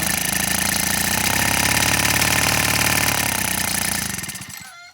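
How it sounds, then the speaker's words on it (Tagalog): A small gasoline grass cutter engine runs loud and steady with a buzzing, rough tone, then fades and dies away near the end. The engine is faulty and will not settle into an idle. "Dapat pino yung andar nito. Tapos wala pa siyang idle. Dapat naka-idle yan."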